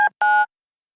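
Two short, loud electronic telephone keypad tones beep in quick succession as a number is dialed, followed by silence.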